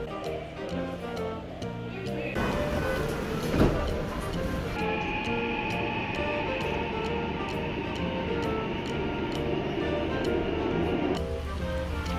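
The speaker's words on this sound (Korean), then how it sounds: "지하철." A subway train rumbles steadily with rhythmic clacking over the rails, a high whine rising partway through, loud and close throughout.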